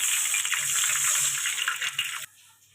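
Water gushes steadily into a pan of turmeric-and-salt fish with green chilli and nigella seeds, a close, bright splashing stream that cuts off abruptly after about two seconds.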